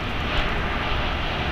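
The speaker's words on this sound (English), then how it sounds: "We just had Aeromexico land flight 646 from Mexico City, a 3 hour and 36 minute flight. It's a Boeing 737 MAX 8" A Boeing 737 MAX 8 airliner at LAX airport, just landed from Mexico City, gives a steady, loud broadband jet roar that holds evenly throughout, with no voices.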